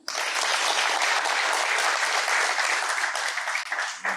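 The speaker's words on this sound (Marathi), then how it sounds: "जोरदार टाळ्या." Loud, sustained applause from a studio audience of local party workers and officials at a televised Marathi political debate in Madha, dense and steady throughout before easing at the very end.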